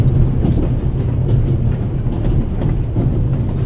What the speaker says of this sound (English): May I ask you where this beautiful train is taking you?